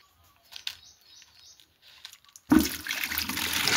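A bucket of water is pulled up by rope: a few faint creaks and bird chirps give way to a loud, sudden splash and continuous pouring.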